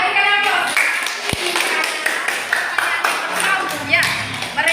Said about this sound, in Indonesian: Iya, berikan aplaus.